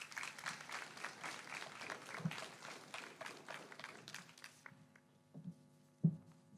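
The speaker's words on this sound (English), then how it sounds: "Let's have a round of applause to the 8th graders." Applause for eighth graders at a school promotion ceremony, a dense patter of many hands clapping that fades out midway, leaving a quiet hall with a few isolated knocks.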